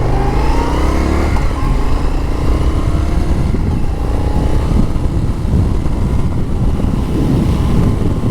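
An Indian FTR 1200 Carbon R motorcycle engine roars continuously on a test ride, loud and close, with an accelerating note early on and heavy wind rushing over the microphone throughout.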